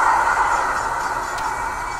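A train in a video game rolls past as a loud, continuous rushing rumble that slowly fades, with no voices over it.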